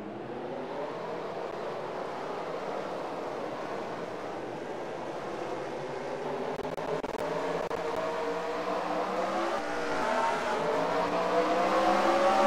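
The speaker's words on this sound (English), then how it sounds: "Drivers, start your engines." Several race car engines rev and drone together in a PlayStation racing video game at the start of an amateur series season finale, a steady layered engine hum with rising pitch that grows louder.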